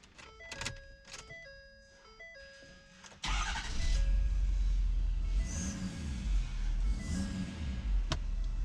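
A car engine, fitted with an SCT Burst throttle enhancement, cranks and fires up after a few seconds of electronic chimes, then settles into a loud steady idle with a couple of swells in revs.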